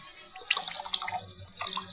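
Running water from a tap in the Roblox video game as a character drinks, a short burst of splashing flow with faint low background noise.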